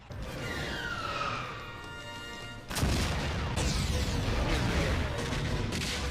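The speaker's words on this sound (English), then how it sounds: "It's blowing up from the inside." A spaceship explodes from the inside in a Star Wars film, Episode I: The Phantom Menace, with a loud booming blast that erupts midway and rolls on as a sustained roar, over swooping effects and a film score.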